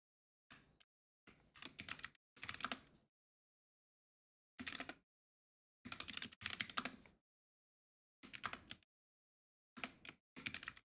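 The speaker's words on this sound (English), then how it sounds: "Type in the password." Someone types a password on a computer keyboard in short bursts of rapid, close key clicks separated by silent pauses, with no talking.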